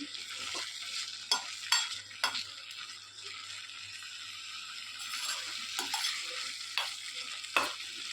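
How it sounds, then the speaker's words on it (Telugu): Tamarind paste sizzling in a pan over low heat for ginger chutney, a steady frying hiss broken by repeated scraping strokes of a spoon stirring, close and alone. "ఇలా చింతపండు బాగా దగ్గర అయ్యేదాకా ఎగరబెట్టుకోవాలి"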